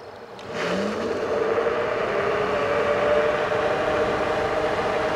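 A fast, expensive electric scooter at full throttle in its first speed mode gives a steady close whine that ramps up quickly, then holds over a rushing wind roar.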